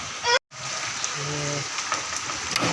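Rain falling steadily outside a home, a soft continuous hiss of drops with a brief cutout near the start and a short tonal sound partway through.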